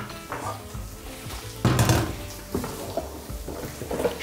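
Agaricus mushrooms frying in a few drops of olive oil in a pan, a soft sizzle under clattering of a utensil and pan, with a louder burst of sizzling partway through.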